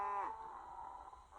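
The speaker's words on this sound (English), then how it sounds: "Cows, he said." A cow gives one long, drawn-out moo at close range in a field, steady and fairly loud over a faint background hum.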